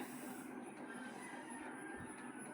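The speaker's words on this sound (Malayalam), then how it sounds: "ട്രെയിന് വന്നുകൊണ്ടിരിക്കുകയാണ്" A train rumbles steadily into a station with faint wheel squeal and a high metallic whine, continuous and fairly quiet, no voices.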